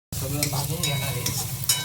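Ingredients roasting and being stirred in a pan, a close, continuous sizzle with scraping strokes of the spoon at a steady pace, no talking.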